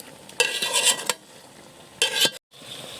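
Chicken pieces being sautéed for a thin handi chicken curry: a faint background sizzle broken by two short bursts of spatula scraping and stirring against the pan, with a brief silent gap near the end.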